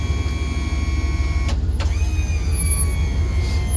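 Electric front jack motor on a 2014 Cyclone 3010 trailer, outdoors, whining steadily and loudly under a constant low hum, with two brief breaks in the tone partway through before it carries on.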